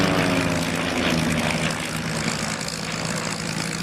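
A low-powered vintage military propeller aircraft flying a display, its engine droning steadily and fairly loud throughout, with no talking.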